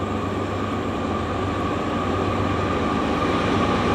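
GE freight locomotives, led by a C6M, rumble past at night with a loud, continuous droning roar and steady rolling noise that holds evenly throughout.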